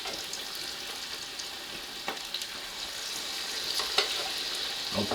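Vegan vegetable fritters fry in a pan with a steady, bright crackling sizzle, close and continuous, with a few sharper pops and spits rising above the hiss.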